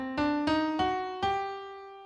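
Four bright plucked or struck notes climbing a G harmonic minor scale in even steps, each ringing and decaying, played alone at moderate volume.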